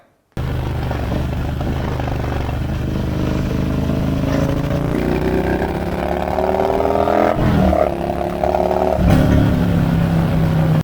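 A swapped-in HP motorcycle engine on a bobber runs steadily and close, its pitch climbing as it revs higher, with a couple of sharp throttle blips near the end.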